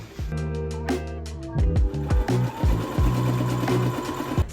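A sewing machine stitches a crêpe dress in short bursts of mechanical whirring, running steady at moderate volume with pauses between runs and a tonal hum underneath.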